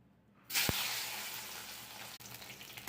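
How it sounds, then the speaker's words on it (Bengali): Pointed gourd (potol) pieces drop into hot oil in a pan, setting off a sudden loud, steady sizzle that holds for a couple of seconds before easing slightly; no talking. "পটলগুলোকে আগে আমি ভেজে নিচ্ছি এক এক করে সব।"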